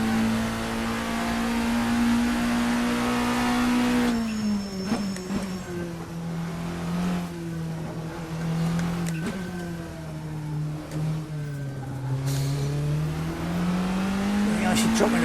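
In Assetto Corsa, a classic endurance race car from the RSS pack revs hard against its rev limiter. The loud, buzzing engine note holds high, then dips and climbs again through several gear changes.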